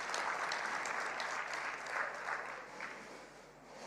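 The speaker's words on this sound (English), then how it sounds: "Let's please give our Prime Minister another massive round of applause." Sustained audience applause for the Prime Minister at a budget review dinner, a dense, steady clatter of many hands that holds for several seconds and eases slightly toward the end.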